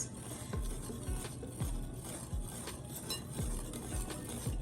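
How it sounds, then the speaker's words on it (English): Yeast being stirred into bread dough ingredients in a bowl, a steady scraping and rubbing with regular utensil knocks about every second, close and moderately quiet. "we're going to add the yeast, and then we're just going to give that a mix"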